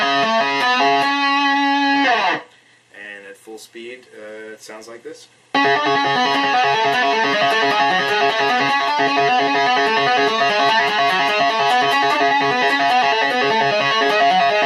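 Distorted electric guitar plays a riff at full speed, fast continuous hammer-on and pull-off runs; a brief break near the start holds a short spoken passage before the loud riff resumes and continues alone.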